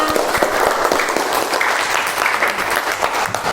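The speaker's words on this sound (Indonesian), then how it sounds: "Beri tepuk tangan untuk Mbak Ari Husna" Classmates in a classroom clap for a student, a steady dense burst of applause lasting a few seconds at even loudness.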